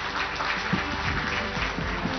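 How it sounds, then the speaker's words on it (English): Audience at a panel discussion clapping for the speakers, a short burst of moderate applause from a crowd, heard at some distance. "a big round of applause for our speakers here"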